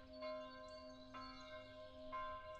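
Solemn pealing of church bells across a holy city: three evenly spaced strikes blend into a continuous ringing hum, clear and unaccompanied by speech.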